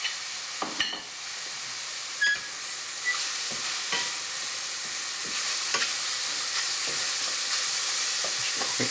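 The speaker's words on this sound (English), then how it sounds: "I just need to add the garlic. And I'll just cook for about a minute." Garlic frying in a pan for beef stew: a steady, close sizzle and hiss with scattered stirring scrapes and clicks, no voices over it.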